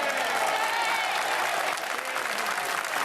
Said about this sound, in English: While MPs broke convention by breaking into applause